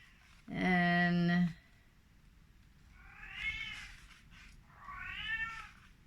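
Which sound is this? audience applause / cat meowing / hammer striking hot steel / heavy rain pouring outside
cat meowing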